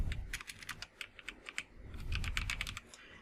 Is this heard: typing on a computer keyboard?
yes